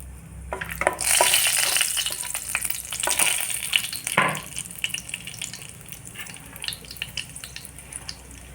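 Whole garam masala spices fry in a little hot oil for a potol posto (pointed gourd in poppy seed paste) dish. A loud, close sizzle swells in the first few seconds, then fades to a softer crackle with occasional utensil scrapes.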